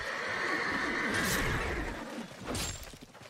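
Horses whinny in a video game, two loud neighing calls, the first drawn out and the second shorter, with light hoof clatter underneath and no talking.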